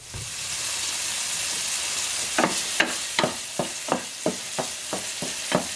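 Pancetta fat rendering in a pan that started cold: a steady close sizzle and hiss runs throughout, broken in its second half by a string of crisp scraping stirs about every half second, with no talking.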